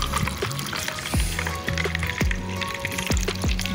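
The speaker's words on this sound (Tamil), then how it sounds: "இப்போ ஜூஸை ஊற்றிக்கலாம்." Watermelon juice pours into a glass holding three ice cubes, a gurgling, trickling stream with falling pitch sweeps as the glass fills, close and fairly quiet.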